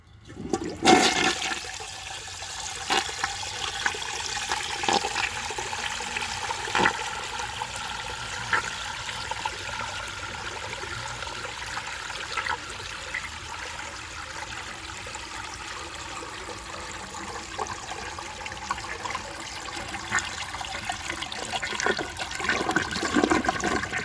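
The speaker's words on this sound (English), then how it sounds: "let's see how it flushes with a clogged siphon jet on an overfilled tank" A 1982 American Standard Plebe toilet with a clogged siphon jet and an overfilled tank flushes with a sustained rushing, gurgling swirl of water that holds steady for a long stretch before tapering, with no talking.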